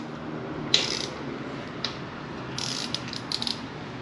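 Close hand ratchet clicking in short bursts while tightening bolts on a Kawasaki Z125 motorcycle, with quiet pauses between the runs of ratcheting.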